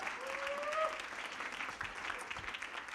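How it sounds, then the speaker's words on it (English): Audience at a TEDx event at UNB in Fredericton applauding, sustained clapping from a crowd that stays steady throughout, with a brief whistle-like tone early on. "big round of applause for Lindsay for taking time to come down to Fredericton"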